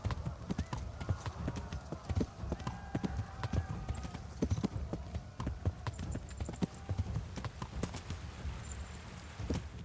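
Horse hooves pounding in the medieval game Kingdom Come Deliverance: rapid, close galloping hoofbeats in a continuous rhythm, with a brief whinny.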